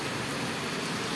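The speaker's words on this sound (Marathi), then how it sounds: "बघा एवढा पाऊस पडतो" Heavy rain in a Maharashtra village, a dense, steady hiss of downpour filling the whole brief moment with no pauses and no voices.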